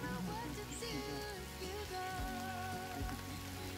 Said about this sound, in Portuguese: a chuva, ó. Chuva!